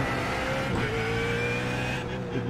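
BMW Z4 GT3 race car engine in iRacing at Spa, a loud close harmonic engine tone sliding downward under engine braking, steady and alone, then a brief shift near the end.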